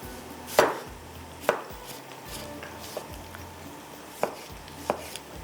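Tomatoes being cut into pieces on a board give five or six sharp, close knife chops at uneven intervals, alone with no talk.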